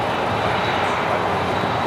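A loud, steady jet engine roar as an airliner taxis across runway 25 Right at LAX, filling the whole moment without a break, broadband and close.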